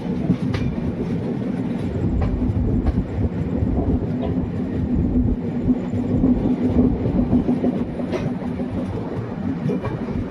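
Bhagat Ki Kothi–Visakhapatnam Express rolling steadily at a station junction, a continuous loud rumble of wheels and carriages with a faint clickety-clack throughout, no voices.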